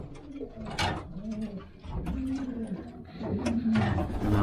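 A pigeon coos close by in soft, repeated, throaty phrases, with faint clatter from a loft holding racing birds in the background.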